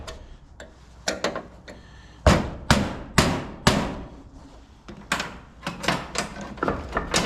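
A meter socket's outer ring is tapped down with sharp metallic strikes in irregular bursts, some single and some in quick clusters, loud and close in a garage.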